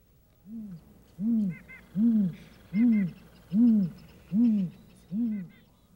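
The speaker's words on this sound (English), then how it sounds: "That sound was made by a large owl living in the coniferous forests of North America," A large North American coniferous-forest owl gives a deep, resonant hoot repeated seven times in a steady rhythm, each call a low rounded note, clear and close in a quiet setting.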